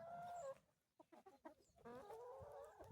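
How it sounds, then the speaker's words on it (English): Chickens cluck on a homestead farm, several birds close by in short bursts and steady chatter, with a couple of sharper calls in between. "Here are our chickens, a few of them"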